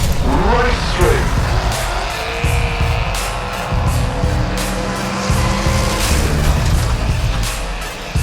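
Scale model race cars sliding and racing on a track, a loud continuous rush of whining motors and tire noise with shifting pitch, over a noisy crowd-like background.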